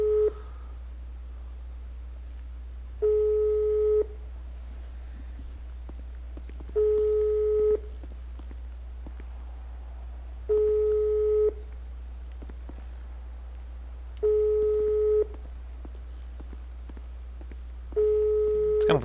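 A telephone busy signal from a video game call to 911 going unanswered, repeating regular tone bursts about every four seconds, clear and steady over a low background hum.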